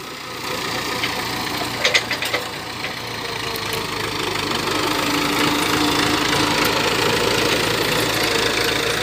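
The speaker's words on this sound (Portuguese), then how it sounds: "O trator tá escorregando, misericórdia." A tractor engine idles and rumbles steadily nearby while working a dry farm field with a disc harrow, joined by a few brief knocks early on.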